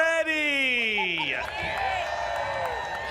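Speedway crowd at Port Royal Speedway cheering and whooping before a dirt late model race, a broad roar of voices under a sweeping tonal whoop that slides downward, steady and loud throughout.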